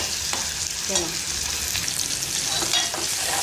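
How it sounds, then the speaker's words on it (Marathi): Garlic, onion and chilli frying in a pan, a steady bright sizzle with a few soft stirring scrapes, close and even in level. "सगळं असं भाजून घ्यायचं मस्त कांदा वगैरे सगळं शिजवायचं मिरची"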